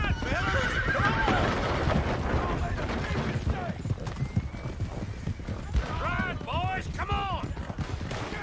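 A horse in the outlaw video game Red Dead Redemption 2 gallops with rapid hoofbeats, then neighs repeatedly in loud, wavering whinnies amid a busy chase with shouting voices and occasional gunfire.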